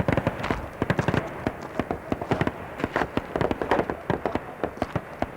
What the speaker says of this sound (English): we heard the sound of gunfire